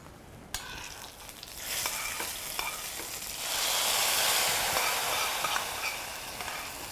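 A cumin, curry leaf and ginger tempering poured into nearly cooked dal sets off a sharp burst of sizzling that swells into a loud, steady frying hiss, with a few clinks of utensils and no speech.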